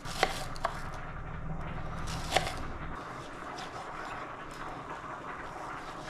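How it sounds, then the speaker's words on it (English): Onion and tomato chopped with a knife on a cutting board, a few sharp knocks early on over a steady background hiss, then a quieter, even stretch. "I'm going to go ahead and chop up my onion and my tomato"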